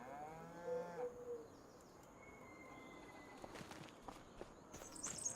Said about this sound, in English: Cows are across the street.